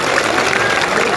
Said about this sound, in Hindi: एक बात ताली बजा